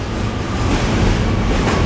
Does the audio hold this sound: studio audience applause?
no